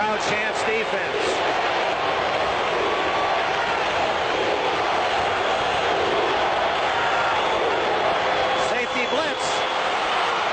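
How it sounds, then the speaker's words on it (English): Football stadium crowd at a 1978 Wild Card playoff game, Houston at Miami, in a continuous loud roar of chanting and cheering that fills the whole stretch, with voices rising above the din. "Crowd chants defense."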